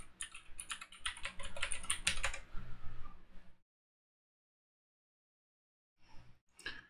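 Fast typing on a computer keyboard enters a login, with dense clicking for about three seconds, a silent pause, then a few more keystrokes, close and clear.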